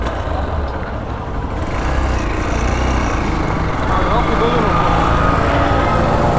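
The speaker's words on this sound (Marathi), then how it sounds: "गाडी बंद का बरं पडते यार एक्सपल्स." A vehicle engine at a busy street food stall runs roughly, its rumble dipping and then surging back more loudly, with people talking nearby over the noise.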